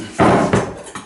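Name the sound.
knife being put back down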